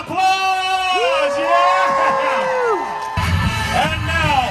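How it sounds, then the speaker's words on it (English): A crowd at a summer nighttime fireworks and dancing water show cheers with loud whoops and yells over continuous clapping, close and sustained. "give yourselves a big round of applause"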